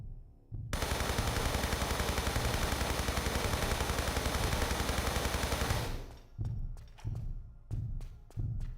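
MP5 submachine gun fire in Tomb Raider III Remastered: a long, loud, unbroken automatic burst lasting several seconds, then a handful of separate heavy thuds spaced out at the end.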